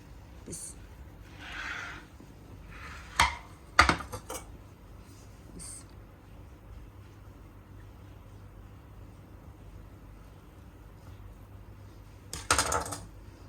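A knife cuts through a tray of three-layer multicolor barfi, giving a few sparse metallic clicks and scrapes against the tray, with louder clinks near the middle and at the end amid quiet background.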